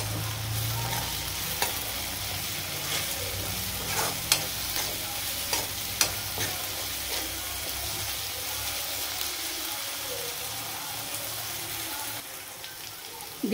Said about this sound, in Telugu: ఇది కూడా కొద్దిగా పచ్చివాసన పోయేదాకా వేపుకుందాం.